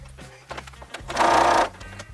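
A sewing machine stitches pieced quilt blocks together in rows for a beginner St. Patrick's Day quilt, a single steady whirring run of about half a second after a few faint handling clicks.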